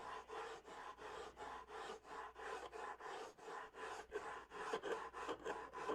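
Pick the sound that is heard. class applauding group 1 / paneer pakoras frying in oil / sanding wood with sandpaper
sanding wood with sandpaper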